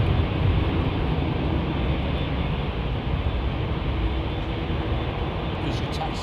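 A jet at London Heathrow Airport departures produces a steady, broad, far-off roar that holds throughout at an even level, with people talking faintly under it.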